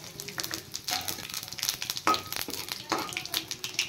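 Whole cumin, dried chili and bay leaf dropped into hot oil, crackling and spitting in short irregular bursts at a moderate, close level.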